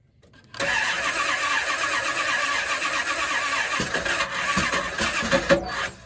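A Dodge Hemi V8 swapped from a 2003 Ram 2500 into a 2007 Ram 2500 cranks and catches after a moment of quiet, then runs loud and rough with an uneven, lumpy idle and a few sharp pops near the end.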